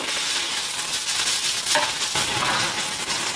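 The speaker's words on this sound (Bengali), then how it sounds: "চিকেন কিমাটা কালার চেঞ্জ হওয়া অবধি ফ্রাই করবো" Chicken mince with nuts fries in a hot pan, a dense continuous sizzle with a few soft stirring scrapes, close up and free of speech.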